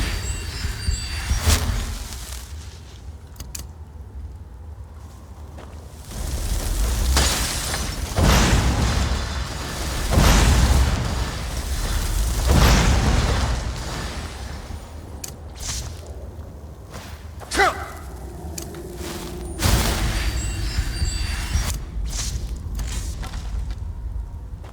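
Stone trap in Skyrim's Rockshatter Gorge sets off rumbling booms and crashing rocks in several heavy bursts over continuous low background noise, loud and near.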